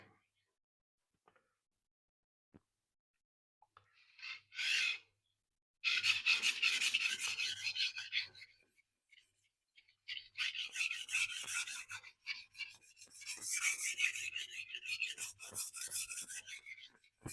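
A carbon-clad Nasu Bunka kitchen knife rasps across a sharpening stone in bursts of rhythmic strokes, close and fairly loud, with quiet pauses between passes.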